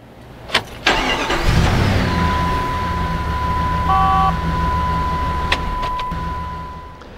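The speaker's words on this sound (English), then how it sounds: "Now what we're going to do is crank the engine." A car engine cranks briefly and catches, then settles into a steady idle that runs on alone, with a faint high electronic tone and a few sharp clicks over it.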